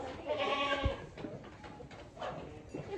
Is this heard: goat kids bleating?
yes